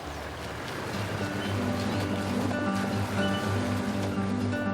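Fast-running river water at a vehicle crossing on the Condamine, a steady rushing wash that builds slightly and holds, with no talking.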